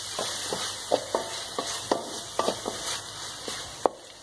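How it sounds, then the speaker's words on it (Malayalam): Chopped ripe tomato sautés in a pan for a quail fry, with a soft sizzle under repeated spatula scrapes and taps against the pan, close and fairly clear, no voices. "ഇനി നന്നായിട്ട് വഴറ്റാം."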